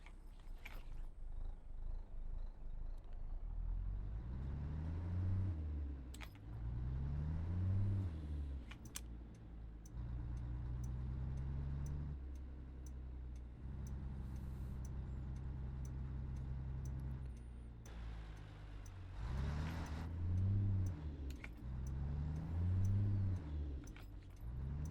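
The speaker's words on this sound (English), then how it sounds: "Man, that truck just sounds freaking awesome" Mack R semi truck engine with the Zeemods sound mod in American Truck Simulator, a deep rumbling diesel idling and revving through repeated rising and falling gear pulls, steady and close throughout.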